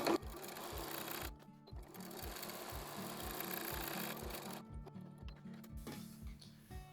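A sewing machine stitches a small denim pouch in close, rapid mechanical runs, with brief pauses between bursts, quiet otherwise and no voices.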